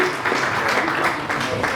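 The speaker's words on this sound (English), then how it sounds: "Another round of applause for the young lady." At a book launch in a cafe, a crowd claps steadily and warmly without pause, fairly close, with no speech over it.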